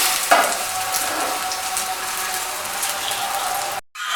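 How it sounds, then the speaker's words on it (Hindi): Potato tikki patties fry in a little oil, giving a bright, steady sizzle with faint crackles, up close, cutting off abruptly near the end. "ये देखिए तमाम टिक्कियाँ जो है हमने फ्राई करनी है। हल्के ऑयल से फ्राई कीजिएगा बिल्कुल।"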